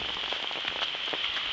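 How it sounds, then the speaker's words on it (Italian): Hail and graupel fall on the ground and road outdoors, making a dense, steady patter of many small ice pellets striking hard surfaces at moderate loudness, with no voices. "tutto bianco con la grandine, grandine e graupel insieme, incredibile, in pochi secondi"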